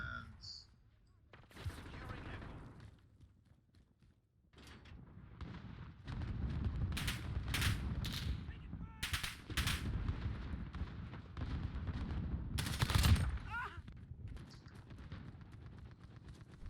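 Gunfire bursts in the video game Modern Warfare, sharp repeated shots in clusters over a steady rumble of game noise, with someone talking intermittently.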